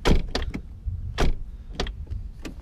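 A 2000 VW Golf 4 car door is handled nearby, a series of solid, heavy clunks and latch thuds as it is opened and shut several times in quick succession, with no talking.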